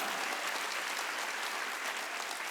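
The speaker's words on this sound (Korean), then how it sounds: "박수치라 이기야" Steady, dense clapping from a church congregation during a Wednesday worship service, a continuous even roar of many hands with no pauses.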